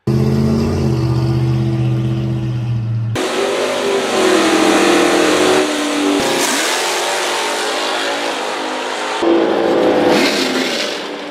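Dodge HEMI factory race car from the 1960s revving hard, a loud, close engine roar that shifts pitch through several throttle bursts and gear changes across the whole stretch, with no voices.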